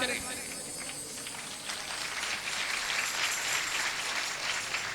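A large crowd in a temple pandal during a religious festival claps to welcome the deity, a continuous wash of applause at a distance, fairly faint and steady, with voices mixed in.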